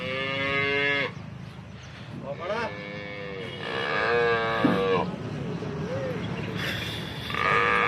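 Two cows lowing in a farm setting, loud and close: several long, drawn-out moos in succession with short pauses between them, some overlapping, against a low background hum.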